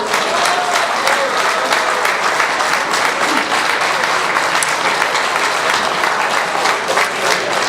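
Audience applause at a drinking-water treatment awards ceremony in Rosemère, a loud, sustained and even patter of many clapping hands that continues unbroken from start to finish.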